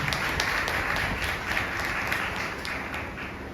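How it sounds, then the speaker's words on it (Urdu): Congregation at a church service clapping loudly in steady, sustained unison, a dense continuous wash of hand claps throughout with no talk. "تالی بجائیں گے زور"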